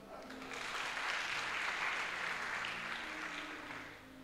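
Church congregation applauding at a worship service, a steady broad wash of clapping and cheering that holds for several seconds with a faint voice and tones underneath.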